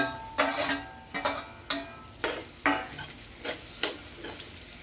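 Capsicum and green chillies sizzling in a pan of pasta ingredients, stirred in about eight sharp, rhythmic scraping strokes over a continuous close frying hiss.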